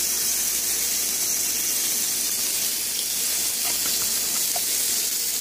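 Shrimp and tomatoes sizzle in melted butter in a hot pan, a steady loud hiss with faint pops and crackles throughout.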